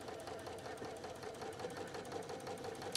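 A sewing machine runs a steady second line of topstitching on a fabric tote bag, giving a close, continuous rapid mechanical chatter throughout.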